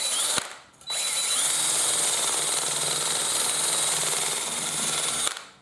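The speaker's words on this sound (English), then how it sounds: "come in here with a wire wheel and we're going to wire wheel that a little bit and get the rest of that off there" A power wire wheel grinds corrosion off a Cadillac Escalade wheel rim: a brief spin-up, then a loud, steady, harsh whirring scrape held for several seconds before it cuts off.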